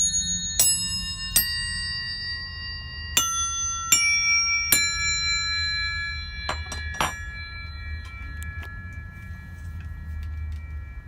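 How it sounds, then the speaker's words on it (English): Montessori bells are struck one at a time, each clear metallic ding ringing out and decaying, with a few quicker strikes clustered together before fading to faint ringing. "So I'm going to show you my Montessori bells now"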